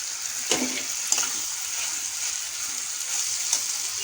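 Potatoes and fried onions frying in a pan for a keema-stuffed capsicum dish give a steady close sizzle, broken by a few soft clinks and stirring bumps.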